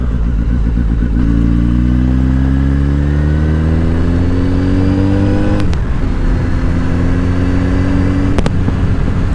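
Honda Hornet 919 motorcycle ridden gently through a residential neighborhood, its engine loud and close, rising through light acceleration with two brief shift breaks and no talking.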